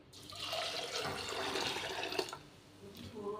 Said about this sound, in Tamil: நீங்கள் இதில் 5 கப் தண்ணி ஆட் பண்ணிக்கலாம்.